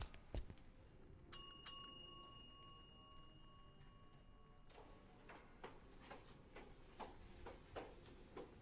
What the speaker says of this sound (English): Let's ring the bell again.